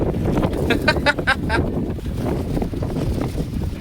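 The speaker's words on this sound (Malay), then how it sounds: "Tadi gaduh angin" Wind buffets the microphone outdoors on a river fishing trip at a fish cage farm in Sungai Udang, Penang, giving a steady, loud rumble throughout, with a brief voice and some tapping sounds over it.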